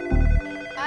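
A telephone rings in one short electronic burst, loud and close, followed by a faint tonal tail.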